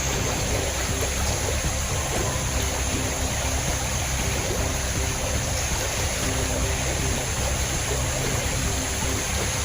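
Continuous rushing river water, steady and fairly loud, with no voices over it, as someone wades across a river.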